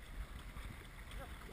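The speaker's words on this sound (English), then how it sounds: "That's an engine. Zodiac." Engine of a Zodiac inflatable boat droning low and steady on open water the day after Hurricane Sandy at Bay Head, mixed with water wash and splashing, with no clear speech over it.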